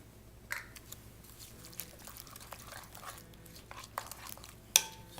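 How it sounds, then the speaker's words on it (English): A spoon stirs lime juice and sugar into a Mexican shrimp cocktail in a bowl, giving soft scraping and wet clinks at an irregular pace, with a sharper tap near the end, close and fairly quiet. "Stir that in there."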